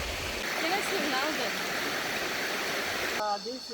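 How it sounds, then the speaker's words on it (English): Mountain stream rushing through Koh Chang jungle, a steady full gurgling flow of water with splashing, heard up close and continuous, with birdsong and other wildlife calls emerging near the end. "This is the water that we've heard coming in off the mountains."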